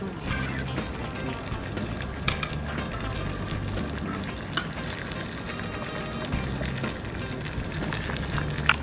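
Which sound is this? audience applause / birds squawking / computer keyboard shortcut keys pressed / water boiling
water boiling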